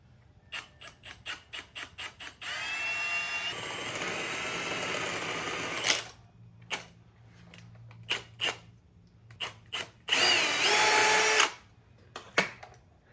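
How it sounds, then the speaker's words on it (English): A drill with a 9/16 bit boring a hole while building a fuel system. Two loud, sustained whirring runs of drilling stand out, with sharp clicks and taps before, between and after them. "we'll just get this sucker drilled right out"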